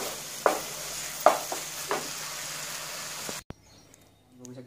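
A pan of tomato chutney with crushed peanuts sautéed on a gas stove, a steady sizzle broken by a few stirring scrapes, then a sudden cut to near quiet.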